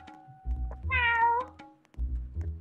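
A cat meows once in a video game, a drawn-out, clear and fairly close call, set between dull knocking thumps from the game.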